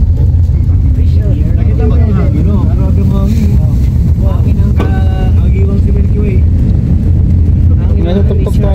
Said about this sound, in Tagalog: Hangin, no? Hangin dito. Nasa tuktok ng bundok.